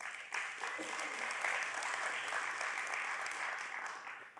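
An audience at Santa Monica's State of the City event applauds, a dense, steady wash of clapping from a large crowd heard at some distance, sustained for several seconds before tapering off.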